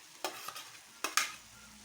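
Onion, garlic and chili hit a hot pan for a tomato dish, giving a few short sizzling bursts and stirring scrapes with quiet gaps between them.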